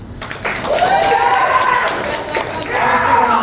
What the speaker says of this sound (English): Give a round of applause for Wiley Steele and Colton Mott